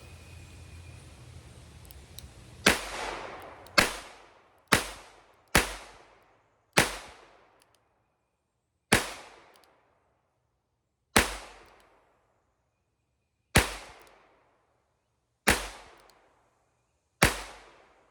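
Ten sharp reports from a Henry Golden Boy revolver firing CCI Mini Mag .22 LR rounds, spaced irregularly about one to two seconds apart, each a crisp crack with a short decaying ring outdoors, nearby and alone without talk.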